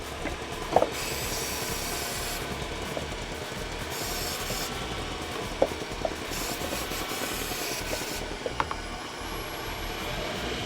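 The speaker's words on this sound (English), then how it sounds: "Hear that leaky gasket?" A running Subaru engine with a leaking gasket gives a steady, close mechanical hiss and rumble, broken by a few faint ticks and clicks.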